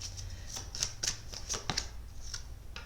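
Murmure de Ganesh oracle cards being shuffled up close, giving a steady run of soft, rapid card slaps and flicks with no talking.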